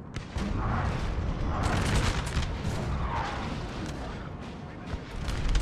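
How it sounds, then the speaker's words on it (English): Cannon artillery firing canister shots in the video game Napoleon Total War, a dense battle din of booming blasts and crackling volleys rolling continuously in the distance. "this cannon here has been getting some wicked canister shots in both directions several times"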